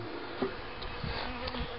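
Honey bees buzz around a hive in a dense, steady hum, with individual bees droning briefly nearby.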